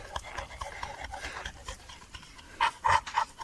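A dog pants rapidly and steadily close by, with a few louder, breathier huffs toward the end.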